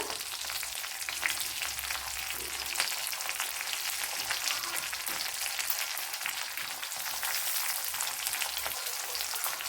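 Green chillies and curry leaves fry in hot oil for a restaurant-style chicken fry, a steady, loud, crackling sizzle that runs the whole time with no talking.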